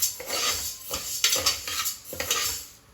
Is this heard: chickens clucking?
no